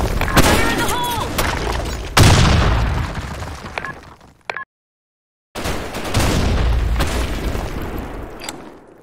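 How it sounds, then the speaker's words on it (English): Grenade explosions in a first-person shooter game, two loud booming blasts with long rumbling tails and brief gunfire pops, a sudden dead silence between them, with game voices and chatter mixed in. "Fire in the hole! Grenade!"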